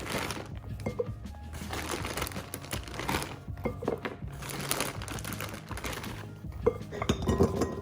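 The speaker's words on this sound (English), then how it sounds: "And now I'm gonna slice up some potatoes and then throw some baby carrots in." Potatoes being sliced with baby carrots tossed into a bowl, giving a busy close clatter of knife taps, thuds and light clinks of produce landing, continuous with a few louder knocks.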